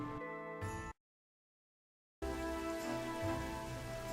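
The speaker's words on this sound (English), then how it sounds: "And once again, it is raining upon me." Steady rain falls in the city-building video game Kingdoms and Castles, a continuous soft patter that cuts out completely for about a second before returning at the same level.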